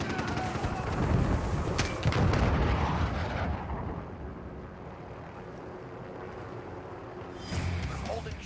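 An enemy cruise missile strike in Modern Warfare rumbles with loud booming blasts and gunfire-like cracks early on, fading to a low distant roar before another burst near the end.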